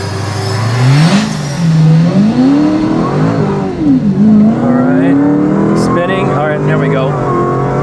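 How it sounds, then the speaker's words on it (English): A 1000 HP Dodge SRT Super Stock revving on launch control at 1800 RPM, the engine note repeatedly rising and falling in loud, close surges, with a person talking alongside. "let's go back here to launch control. Let's take this up to 1800 RPM."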